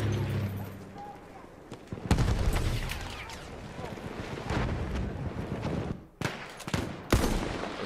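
Battlefield 1 gameplay with sharp gunshot bursts and booming blasts over a constant battlefield din, the shots coming in irregular clusters, some loud and near, others distant, with faint voices mixed in.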